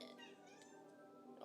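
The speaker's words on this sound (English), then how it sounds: "Oh, I hear a baby cat." A kitten meows faintly in the background of the Doki Doki Literature Club visual novel, a thin, drawn-out, high-pitched mewing heard at low volume.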